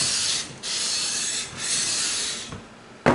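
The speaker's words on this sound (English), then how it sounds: "Now I need to check that I'm not sanding it with a bow in it." Sanding a worn guitar fretboard on an Avon Marauder, repeated long abrasive rasping strokes close up with brief dips between passes and a sharp knock at the end.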